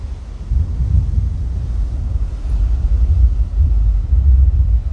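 Ocean swells breaking on a shoreline in wind, a continuous deep low rumble with buffeting wind noise on the microphone, steady and fairly loud with no voices.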